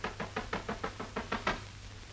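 A steady run of about eight firm knocks on a door in a 1947 Hindi film, evenly paced, then a short quiet tail.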